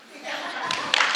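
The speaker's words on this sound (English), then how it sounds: "A round of applause for Lorena." Audience applause at a small business workshop on business credit, a brief burst of clapping rising from quiet and swelling near the end, with a voice speaking over it.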